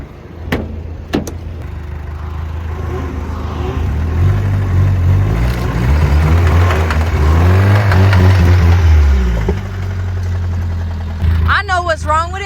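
A Nissan 350Z pulling away in first gear, the engine note swelling as it revs up and then easing off, loud and close from inside the car, with people talking and a door sound near the start.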